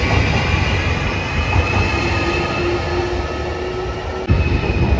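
A JR Shikoku 7200 series local electric train runs through Marugame Station on the Yosan Line, a loud, steady rumble of wheels and motors with a faint squeal and a sharp clunk near the end, no voices.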